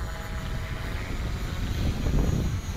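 Align LH-450 RC helicopter flying and coming in to land outdoors in strong wind, a steady loud rotor whine and buzz that swells slightly toward the end, with wind noise over it.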